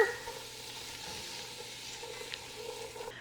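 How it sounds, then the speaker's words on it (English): Onions sautéing in a pot for tomato soup, a soft steady sizzle with light stirring scrapes, fairly quiet and close, with no one talking. "I'm gonna give this a stir."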